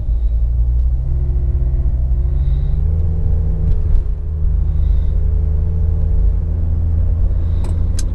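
Steady low engine rumble and road noise from a car cruising along a dark road at night, continuous and even throughout with no talking.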